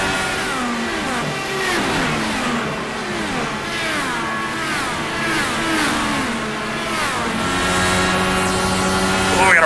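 IndyCar race cars running side by side into turn one on the Nashville street circuit in iRacing, their engines whining and shifting pitch as they pass, steady and loud throughout with no talk.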